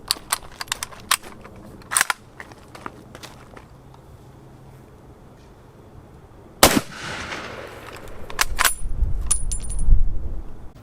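Gunshots fired at a MIRA Safety Level IV ballistic plate: a scatter of sharp clicks and handling noises, then one loud close crack followed by rattling clatter and a rumbling tail.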